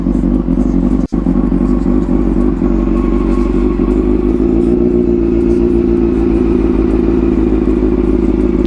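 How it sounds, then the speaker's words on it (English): A Harley motorcycle engine idles high to warm up, a loud, steady, close rumble with a pulsing throb that holds throughout, cut once by a brief dropout. "We'll do that little idle, a little high to warm up and then bring it back down."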